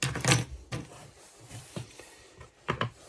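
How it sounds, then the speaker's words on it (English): Metal keys jangling and clinking as they are pulled off a keyring, a loud burst of rattles at the start followed by a few sporadic clicks and a final cluster of jingles. "we just remove the other keys off the keyring"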